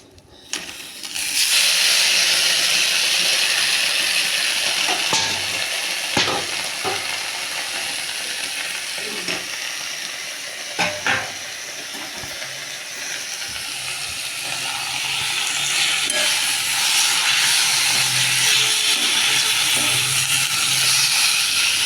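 Taro leaves (kochu shaak) dropped into hot oil in a pan flare into a loud, steady sizzle that swells again toward the end, with a few sharp clatters and stirring knocks along the way.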